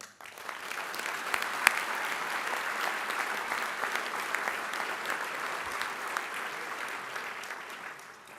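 An audience at a Father of the Year awards event applauds an honoree, a broad sustained clatter of many hands that starts abruptly, holds steady, with a sharp clap standing out early, then tapers at the end.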